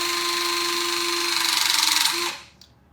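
An 18V Phoenix cordless bolt seal cutter runs with a steady, high electric motor whine for about two seconds. The whine grows slightly rougher, then cuts out abruptly, leaving a brief faint tail.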